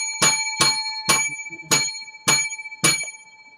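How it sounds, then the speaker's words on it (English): A small bicycle-style bell is struck six times in a steady, evenly spaced series, each ring bright and close with a short ringing decay. "we need 7 lucky bells for this show."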